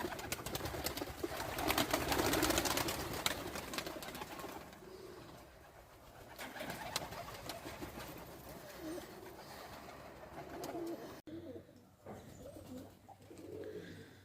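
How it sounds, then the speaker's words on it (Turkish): Pigeons cooing inside a crowded coop housing squabs and eggs. Soft, repeated coos from several birds continue throughout, fairly faint against a background hiss, with a quieter stretch near the end. "Güvercinlerde son durum böyle arkadaşlar."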